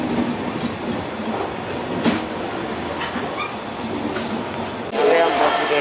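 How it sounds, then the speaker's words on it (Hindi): The North East Express passing on the adjacent track near New Bongaigaon station, a steady loud rumble of wheels and carriages with faint clicks and a brief squeal, heard from inside a moving sleeper coach. "और वो साइड नॉर्थ ईस्ट एक्सप्रेस है, वो रंगिया और बरपेटा होकर आ रही थी।"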